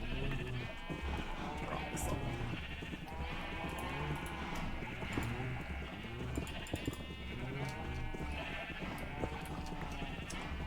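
Sheep bleat repeatedly in a Minecraft-style survival server sheep farm over a steady game soundtrack, several overlapping calls of varying pitch spread through the whole stretch, moderately loud and close.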